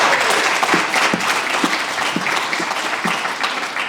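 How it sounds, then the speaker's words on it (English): An audience at a charitable foundation's annual address breaks into loud, sustained applause, a thick wash of many hands clapping with a few sharper individual claps standing out in a loose rhythm. "I wasn't ready for applause in between these things."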